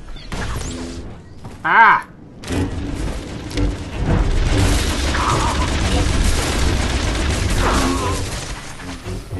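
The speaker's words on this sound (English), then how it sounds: "I'm about to get bombarded." Explosions from a bombardment rain down in the game SWTOR, Shadow of Revan prelude, on a Jedi Guardian. A sharp blast lands near the start, then a dense, rumbling barrage rolls on steadily while a man briefly cries out.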